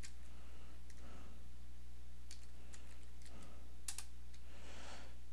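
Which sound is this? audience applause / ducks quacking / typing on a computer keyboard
typing on a computer keyboard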